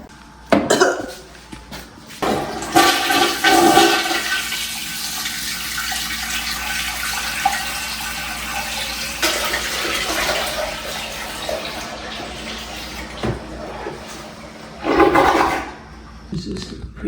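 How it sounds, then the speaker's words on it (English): An old toilet is wrenched loose during a basement bathroom demolition in a 1960s home. Water sloshes and gurgles with scraping and knocks, and loud clunks come in bursts at the start and near the end. "It's time to take off the disgusting toilet."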